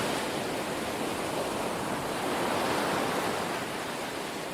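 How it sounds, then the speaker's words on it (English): Dense, steady roar of surf washing onto a shore, broad and continuous, with no voices. "sea waves crashing on the shore"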